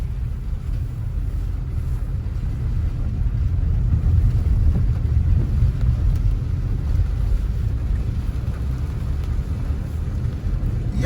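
Rain easing slightly during a cold front over Montego Bay, Jamaica: a steady low rumbling wash of rainfall and wind, constant and fairly loud, swelling a little midway, with no voices.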